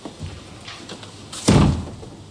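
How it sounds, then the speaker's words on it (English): A door is pushed shut with a single loud, solid slam indoors, a sharp thud that quickly dies away against quiet room tone. "Shut the door, Wilson, please."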